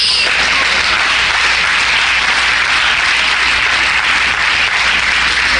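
Sustained, vigorous clapping fills a church as the congregation applauds loudly and steadily for several seconds, a thick, even roar of hands with no voices standing out.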